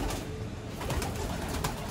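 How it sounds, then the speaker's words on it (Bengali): Stock pigeons in a newly built, net-screened loft coo in soft, low, repeated murmurs close by, set against a steady background hum. "আর এখানে হচ্ছে স্টক কবুতরগুলো।"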